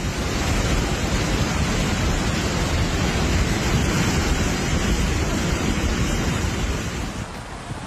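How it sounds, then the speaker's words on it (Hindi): Floodwater after a cloudburst in Himachal roars as a loud, steady, broadband rush with no let-up, easing slightly only at the very end, with no voices. "पानी के शोर को सुनिए जो डराने वाला है।"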